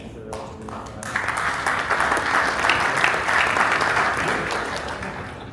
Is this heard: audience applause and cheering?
yes